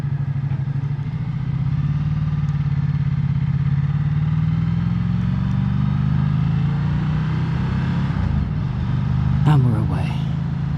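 A Ducati Diavel 1260s motorcycle engine idling with a steady low rumble, heard close under a person talking, with a brief rise in revs near the end.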